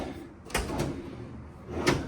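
A kitchen drawer in a fifth-wheel RV slides open with a brief rolling scrape and soft knocks, followed by another quick clatter moments later, close by and fairly quiet.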